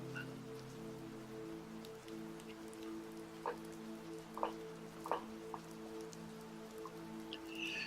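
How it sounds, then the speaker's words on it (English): Soft rain patters at a distance with scattered drips, faint and steady under a sustained low tonal drone, with no voices. "rain."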